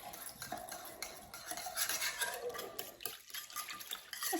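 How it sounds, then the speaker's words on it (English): Whisking a lemon juice and garlic dressing in a bowl, with quick metal-on-dish scraping and clinking strokes, close and fairly quiet, alone without talk. "I'm gonna whisk that up a little just to get the garlic kind of going."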